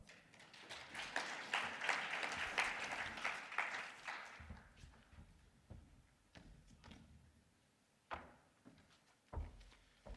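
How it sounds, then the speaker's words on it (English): At a panel discussion, an audience gives a brief round of applause for Roland Brown, chairman of the Economic Association of Namibia, and it fades after about four seconds into scattered thumps and handling knocks in a quiet room. "please give a round of applause to the chairman of the Economic Association of Namibia and our host, Mr. Roland Brown"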